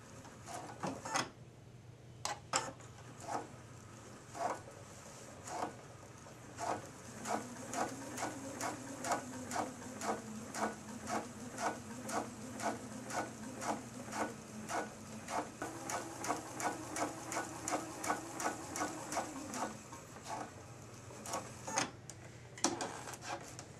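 Sewing machine basting along a seam line for an invisible zipper, a quiet rapid ticking stitch rhythm that speeds into a steady run with a low motor hum, then slows and stops.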